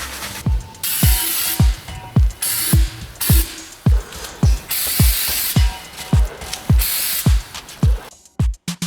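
Stone-effect spray paint hissing from an aerosol can onto a vase in short repeated bursts, about a dozen sprays each lasting under a second, close and fairly loud, separated by clicks and brief pauses.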